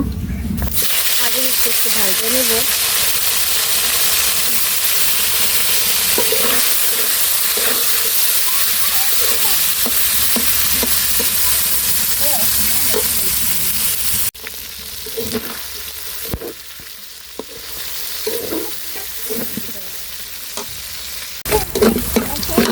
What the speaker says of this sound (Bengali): মাছ ভাইজা আগে উঠিয়ে নিলাম